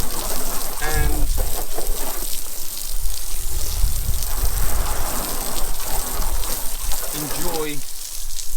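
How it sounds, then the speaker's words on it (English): A garden hose spraying water over a 2007 Subaru Forester STI during a wash, a loud continuous hiss and splatter like heavy rain, with a voice speaking over it. "And then literally a few sprays, mix it in with a hose"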